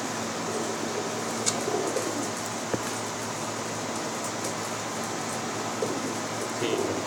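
Pet pigeons at a loft: soft, low cooing drifts through a quiet room, faint and intermittent, with a few small clicks and a light background hiss.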